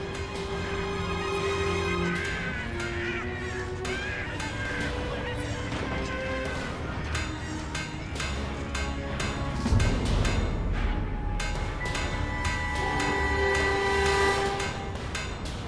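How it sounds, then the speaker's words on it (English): A monorail falls and crashes in the video game Fable 3, with a dense, continuous wash of metallic screeching, tonal horn-like squeals and rumbling impacts that swell midway, heard loud and alone. "Maybe the monorail falling wasn't an accident after all."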